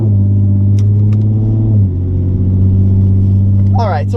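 Steady low rumble of a car interior while driving, loud and continuous throughout, with a brief shift in engine tone midway; a person talks over it.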